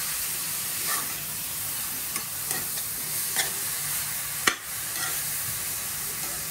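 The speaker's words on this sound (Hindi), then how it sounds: "इसको तेज आंच पे सेक रही हूँ मैं।" Carrot halwa is stirred and roasted in a pan over a high flame, giving a constant soft sizzle broken by scraping spoon strokes and one sharp clatter. No one talks.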